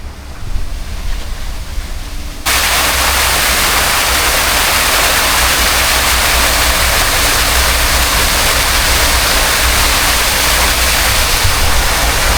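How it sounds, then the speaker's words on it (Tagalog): A large water fountain splashes outdoors in Abu Dhabi, a dense, loud, continuous roar of falling water that swells in abruptly after a quieter opening and then holds steady, with wind buffeting the microphone. "nandito yung pinaka fountain ng mga tubig"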